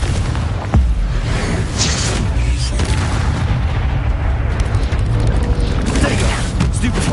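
Confringo spell explosions in the Hogwarts Legacy video game come as loud, dense booms and mechanical crackles over a constant rumble, with a voice speaking over the action.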